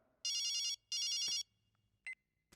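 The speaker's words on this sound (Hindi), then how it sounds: "किसका फोन बज रहा है" A telephone rings in two clear, loud electronic bursts, followed by a short faint chirp and near silence in a quiet indoor scene.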